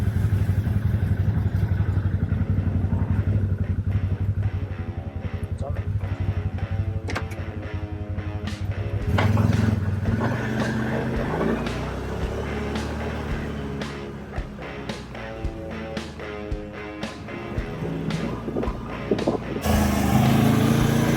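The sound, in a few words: A.ODES Workcross 650-3 4WD UTV driving on test run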